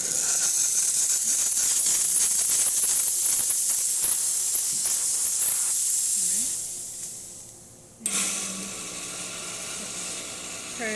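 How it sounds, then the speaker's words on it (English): Steam wand on an ECM Casa V espresso machine, fully heated after a heating element replacement, hisses loudly and continuously, dies away, then bursts back on with a sharp hiss. "the machine is completely heated up now, so I just wanted to show you the steam first"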